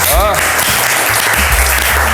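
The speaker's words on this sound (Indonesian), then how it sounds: "Kita berikan tepuk tangan sekali lagi." Audience applause at an Indonesian podcast taping, a steady broadband clatter filling the whole stretch, with a brief speaking voice near the start and low rumble underneath.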